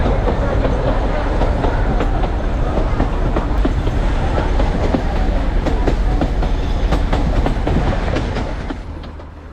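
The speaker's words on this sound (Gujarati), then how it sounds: "આજે આપણે સફર કરી રહ્યા છીએ 110 વર્ષ જૂની હેરિટેજ ટ્રેનનો." A 110-year-old heritage toy train on the Bilimora to Waghai line, heard from on board as a loud, steady clatter of wheels on rail joints and a rumble that eases off slightly at the end.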